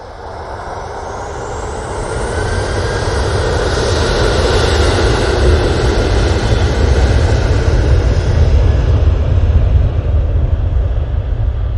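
A departing airliner roars at Manchester Airport, a broad, loud jet engine rumble that builds steadily over about twelve seconds and holds near its peak, with no talking.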